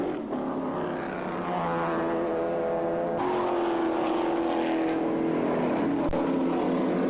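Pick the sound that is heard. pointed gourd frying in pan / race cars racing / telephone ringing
race cars racing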